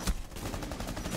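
Rapid bursts of gunfire in Rainbow Six Siege crackle continuously for about a second, dense and close, with no talking.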